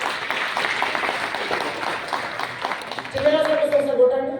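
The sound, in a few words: audience applause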